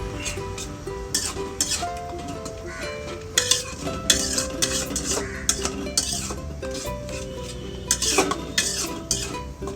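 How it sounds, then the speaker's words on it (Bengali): Prawn masala with fresh cream being stirred in a pan, a steady run of scraping and clinking strokes with soft sizzling underneath, close and fairly busy throughout. "দিয়ে আবারও একটু নেড়ে নেব"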